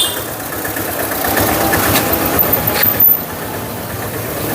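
A 2020-model Bajaj Discover motorcycle engine idles close by, a steady low rumble that holds evenly for several seconds with a few brief bumps in level.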